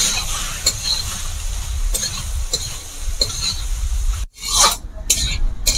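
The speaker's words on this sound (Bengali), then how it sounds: "আমি ভাতগুলোকে দেওয়ার পর এইভাবেই নেড়ে ছেড়ে আমি 10 মিনিট মতো উনুনের আঁচটা তেজ করে দিয়ে ভেজে নেব" Leftover rice with eggs stirred and fried in a pan over high heat, giving steady scraping and rasping strokes with a faint sizzle underneath, close by and fairly loud, with a brief pause near the end.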